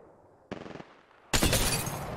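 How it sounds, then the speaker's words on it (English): Gunfire in the game Apex Legends: a short rattling burst, a brief pause, then a louder sustained burst of automatic fire close by. "Opening fire on the enemy."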